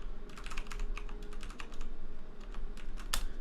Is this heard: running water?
no